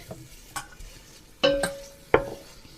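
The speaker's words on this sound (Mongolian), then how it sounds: "будаага хуурах гээд өөхөө ингээд хийцэн хайрж байна" Grain being stirred into rendered fat in a pan, a faint sizzle under a few sharp clinks and scrapes of a utensil against the metal pan.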